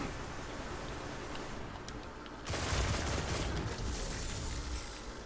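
Sniper rifle fire in a Destiny Trials of Osiris match, a steady dense wash of game noise that turns into a louder burst of rapid overlapping shots partway through and continues to the end.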